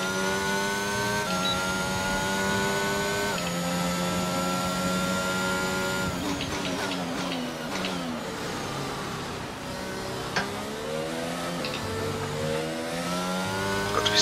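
A Formula 1 race car engine from the F1 2022 video game revs and accelerates, its harmonics climbing and dropping through gear changes in a continuous loud, close whine.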